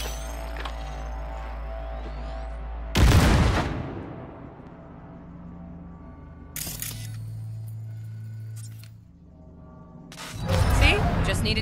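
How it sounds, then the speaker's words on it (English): A grenade detonating in the video game Cyberpunk 2077 on PS5, several heavy blasts with long rumbling decay over a droning game soundtrack, loud and close, with a voice speaking alongside. "Now, detonate the grenade."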